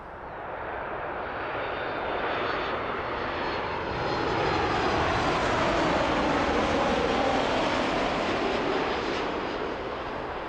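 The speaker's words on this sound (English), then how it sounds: "WestJet 737 MAX 8 coming in from Calgary, as always," A WestJet Boeing 737 MAX 8 arriving from Calgary and landing at Toronto Pearson airport, a broad jet roar swelling gradually as it nears and holding loud through the end, heard from outside with no voices.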